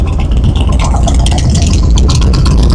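A Harley-Davidson engine fitted with a Tab Performance 50 Cal slip-on exhaust with Zombie baffles runs loud and steady, a dense, continuous rumble with no pauses, while other motorcycles run nearby.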